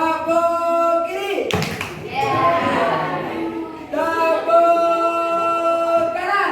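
A class claps hands together in a group exercise: a dense burst of clapping in the middle, between stretches of an adult voice giving instructions, moderately loud and close.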